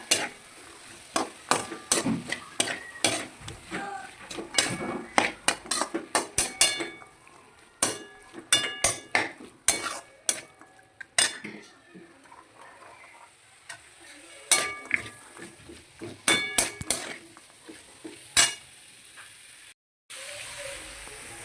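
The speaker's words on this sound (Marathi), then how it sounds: "सर्व भाज्या मसाल्यामध्ये चांगल्या मिक्स करायच्या" Mixed vegetables being stirred into masala in a pan, with rapid clicking and scraping strokes of a spoon against the metal in irregular bursts over a light sizzle, close and with no talk.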